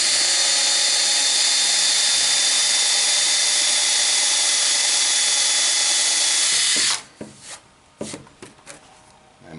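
A loud, steady power drill whines continuously for several seconds as it drills wood for a cutting board, then stops, followed by a few scattered knocks and handling sounds.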